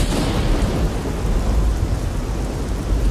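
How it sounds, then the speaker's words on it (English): Steady heavy rain pours down with a deep rolling rumble of thunder underneath, loud and continuous throughout, in a video game. "I can't hear anything over this goddamn rain,"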